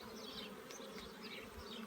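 Honey bees swarm and buzz over an opened beehive while frames are lifted out, a dense steady hum with higher whining passes of individual bees close by, continuous and without talk.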